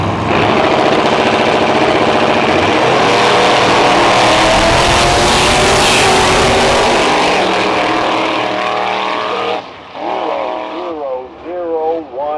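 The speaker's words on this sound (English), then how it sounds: "Race cars, the Ford Pinto and the Chevy Vega." Drag racing cars, a Ford Pinto and a Chevy Vega, at a nostalgia drag strip event in St Thomas, Ontario, roar loud and close with a sustained engine howl that drops away near the end, voices mixed in.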